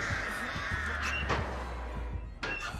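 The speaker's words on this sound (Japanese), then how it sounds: "一発でカラスを解くことができるという仕様になっております" Crows caw in the video game Dead by Daylight: raspy calls at moderate distance over steady low ambience, with soft knocks and thumps in between.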